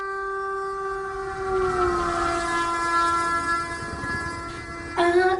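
A train horn blares in a long sustained, slightly bending tone over the rumble of a railway, then sounds again in a louder blast near the end.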